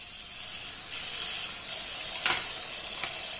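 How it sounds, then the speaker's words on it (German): Warm water streams from a tap as a steady hiss, with a few brief splashes and clinks breaking the flow, heard close and alone without speech. "Jetzt nehmen wir mal warmes Wasser"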